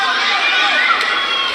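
Crowd noise at a boxing bout between Kenneth Llover and James Pagaling, a steady roar of cheering and shouting voices with a commentator talking over it throughout.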